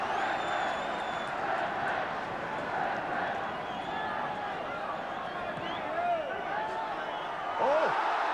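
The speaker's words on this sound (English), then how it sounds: "Tremendous backing from the Carrow Road crowd now for Norwich." Football supporters at Carrow Road roar and chant in steady support of Norwich City against West Brom, a broad, sustained crowd wash that rises near the end.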